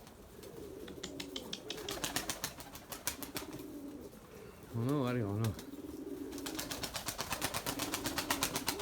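Erzurum White breeding pigeons coo and flutter close by, with a loud rolling coo in the middle and sharp wing claps and taps around it, while someone talks in the background.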